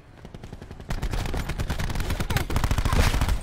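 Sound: gunfire in Black Ops 4 video game

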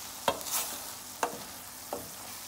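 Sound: vegetables and soya chunks cooking in a pan

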